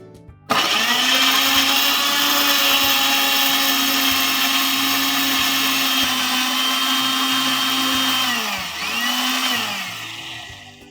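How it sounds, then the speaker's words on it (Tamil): Prestige Endura mixer grinder grinding masala with water, a loud steady high-pitched motor whine running for about eight seconds, briefly dipping, then starting again for a short final burst. "ஸோ நான் இன்றைக்கி யூஸ் பண்ணுறது வந்து பிரஸ்டீஜ் எண்டூரா மிக்ஸி தான்."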